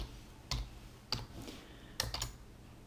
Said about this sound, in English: So I'm gonna type blue